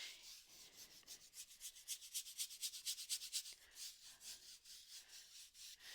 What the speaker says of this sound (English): just scrub, scrub, scrub that paint into the texture of the canvas